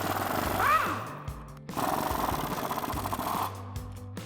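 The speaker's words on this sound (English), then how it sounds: "take an 18mm socket for our 2 bolts at the top to pull those out" Rear shock top bolts being removed on a 2015 or later Ford Mustang with an 18mm socket, giving two loud bursts of rapid mechanical rattling, about a second and two seconds long, separated by a short pause.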